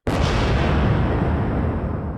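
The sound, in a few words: explosion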